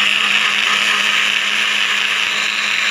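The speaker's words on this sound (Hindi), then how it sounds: "ये हम ब्लेंड कर लें" A kitchen blender whirs steadily and loudly close up as it purees onions and green chillies for a creamy chicken curry, a constant high motor drone with no pauses.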